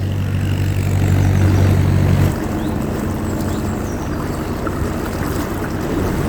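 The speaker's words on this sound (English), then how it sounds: "we've got another boat coming towards us now" A canal boat's engine drones low and steady, then cuts away, leaving a broad wash of water and wind noise as the craft goes by.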